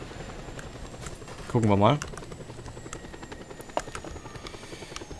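A helicopter in the video game Just Cause 2 drones steadily throughout, its rotor noise continuous and fairly even under a voice, with a brief louder vocal burst near the middle.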